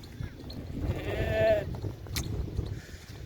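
A young male goat at a livestock sale lets out a single wavering bleat near the middle, heard against a murmur of people and farmyard background noise.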